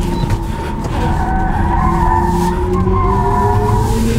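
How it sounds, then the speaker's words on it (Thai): Tires on a BMW iX3 M Sport electric SUV squeal loudly under hard braking, a wavering, sustained screech over road rumble, close and continuous throughout. "เบรกหนักมาดี"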